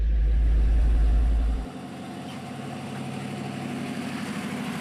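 The engine of a Soviet ZIL 130 dump truck with an MMZ 4502 body runs steadily while the hydraulic pump raises the body, a low, even idle following a loud deep thump at the start.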